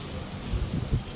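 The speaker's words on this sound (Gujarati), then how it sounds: "જો વરસાદનો અવાજ આવતો હશે" Heavy rain pours down steadily in a dense, loud hiss with low thudding drops, close and continuous throughout.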